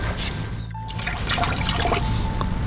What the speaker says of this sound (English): let's rinse it off real quick